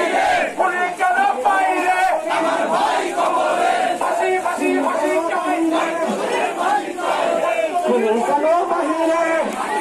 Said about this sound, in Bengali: আমরাও ঠিক এখানে তার ফাঁসির দাবিতে মিটিং,